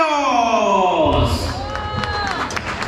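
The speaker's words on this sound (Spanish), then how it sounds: "el aplauso fuerte que se escuche para los novios" Wedding guests at a celebration in Ameyaltepec applaud the newlyweds, a loud, dense burst of clapping and crowd noise rising about a second in, with a sustained tone and a voice running over it.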